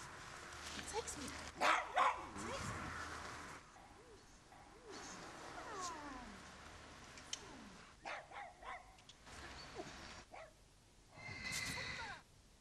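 Several short, sharp barks from a small dog, loud and close, scattered among a person talking.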